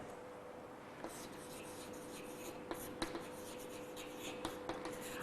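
Pen or marker writing out notes on pigments for a biology lesson, a faint steady scratching with a few soft taps, quiet and close, with no talk.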